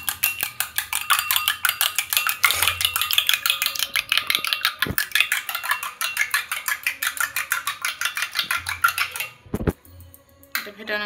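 An egg is beaten with salt in a bowl: a fast, steady metallic clinking of utensil against the bowl, continuing for about nine seconds, then stopping abruptly near the end.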